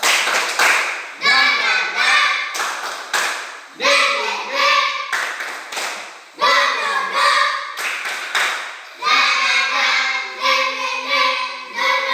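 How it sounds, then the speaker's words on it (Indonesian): A classroom of Indonesian students does a rhythmic spirit clap: loud bursts of group clapping in repeated patterned phrases, separated by short pauses, with children's voices chanting along. "Tepuk semangat."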